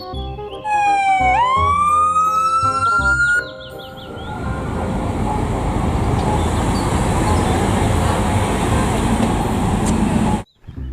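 A toy police car's electronic siren wails with rising and falling tones for a few seconds, then gives way to a steady, loud noisy hum like traffic or motor rumble that fills the rest of the clip before cutting off abruptly.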